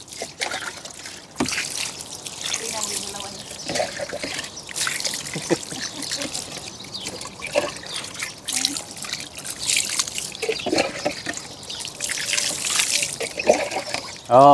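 Water trickles and splashes steadily for most of the clip while dogs are bathed, with scattered drips and sloshes and faint voices in the background.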